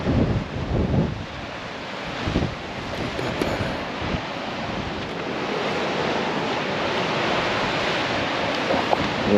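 Strong wind blowing outdoors in Spain, a loud continuous roar buffeting the microphone, heavier in the first seconds and then steady, with no talking.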